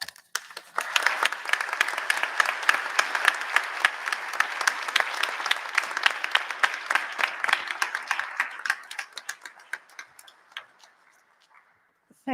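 Sustained audience applause at an arts-center celebration honoring a family, dense clapping for about nine seconds before thinning out into scattered claps and fading.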